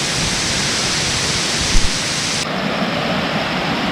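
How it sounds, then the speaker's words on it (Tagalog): Anyap Falls waterfall at a campsite in Tanay, Rizal, a dense, steady rush of falling water close by, broadband and unbroken, with no voices. "Ganda ng lagas ng tubig"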